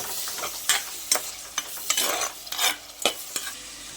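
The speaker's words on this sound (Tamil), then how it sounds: "பூண்டு வெங்காயம்லாம் நல்லா வதக்கிட்டு இருக்கட்டும்." Garlic and onion sauté in a pan for fish curry, a soft continuous sizzle punctuated by irregular scraping strokes of a spoon stirring against the pan, close and fairly clear.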